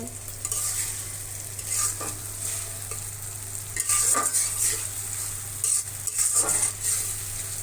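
A homemade spice mix frying in a pan and stirred repeatedly, with close scraping strokes and light clatter over a continuous hissing sizzle.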